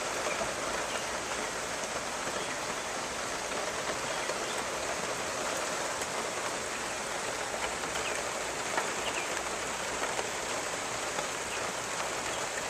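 Steady rain from tropical storm Nicole in Okeechobee, Florida falls as an even, moderate hiss of drops striking the ground, constant and unbroken with no wind gusts or voices.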